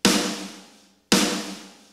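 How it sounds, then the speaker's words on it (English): Two snare drum hits from a room-miked sample, each a bright crack followed by a long roomy decay, spaced about a second apart with nothing else heard. "Load audio file, and we're gonna load in the Joyful Snare Room."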